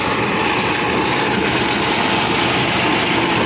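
Continuous loud drone of a tractor towing a new reinforced Panzer rotary tiller through field soil, an even engine roar and churning rumble with no break or speech.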